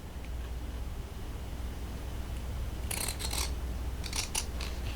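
Scissors snip needles apart close up, a quick pair of sharp cuts followed by several more crisp snips over a low background hum.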